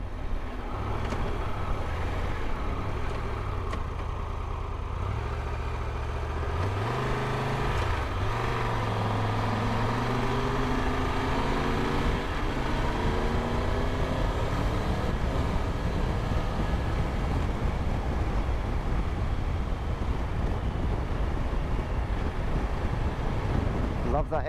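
A 2025 Triumph Tiger Rally Explorer motorcycle engine under way, a loud continuous drone with rising and falling pitch through gear changes, overlaid by wind buffeting, with speech in places.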